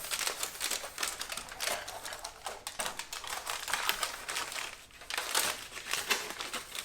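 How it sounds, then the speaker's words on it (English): Aluminum foil is peeled loose from the edges of a pan, giving a close crinkling and crackling that comes in uneven waves with brief pauses between them. "all you wanna do is unwrap the edges of your foil from your pan."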